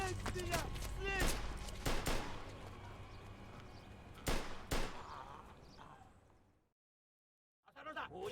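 Gunfire in Mafia 2 Definitive Edition cracks in scattered bursts with metallic clangs and a short burst of rapid shots, then a sudden drop to silence before sound resumes.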